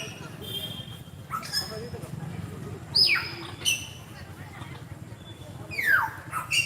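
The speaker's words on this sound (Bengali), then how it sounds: "পাখির কিচিমিচি সুর শুনছেন," Birds chirping in an eco park aviary holding macaws, grey parrots, sun conures and pheasants, with a few short bright calls rising over a steady murmur of crowd noise and background chatter.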